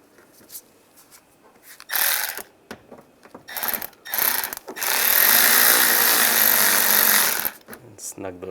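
A ratchet snugs down the radiator fan screws on a 1999-2005 Volkswagen Jetta, with several quick bursts of clicking close up and one long steady run of clicks near the end.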